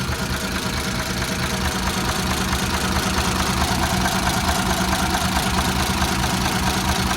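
A freshly rebuilt Hino truck engine runs steadily, a loud, continuous, even diesel rumble with a dense rattling texture and no voices.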